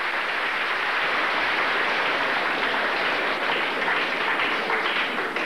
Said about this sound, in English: he clearly received the longest applause so far tonight